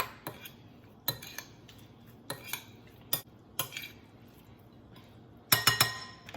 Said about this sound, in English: let's mix that up really well. Get that nice and incorporated in there.